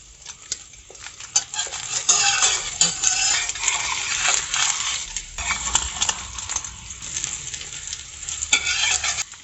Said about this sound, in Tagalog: Magpiprito muna ako ng itlog